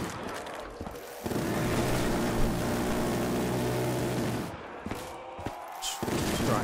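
Gunfire from a zombie shooting video game, a sustained burst of rapid automatic shots with a droning hum, pausing briefly and then resuming in short shots near the end.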